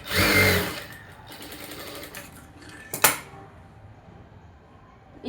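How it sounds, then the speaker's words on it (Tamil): A sewing machine stitches a straight seam on blouse lining in a short loud burst, then stops, followed by a few light clicks and a sharp mechanical tap. "விட்டுட்டு இப்படி வரிசையாக ஒரு நெட்டாக ஒரு தையல் போடுறீங்க"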